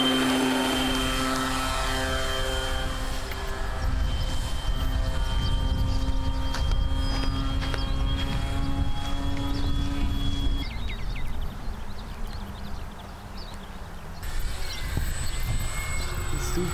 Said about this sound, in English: Full size aircraft over here, I see that.